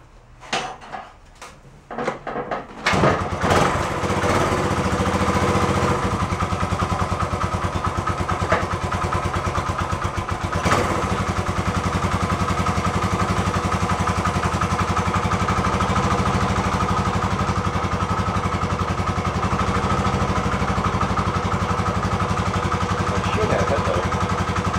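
A barn-find 1972 Honda SL125 motorcycle cranks with a few sharp clatters, then catches on a cold start and settles into a steady, fairly loud idle that runs on evenly.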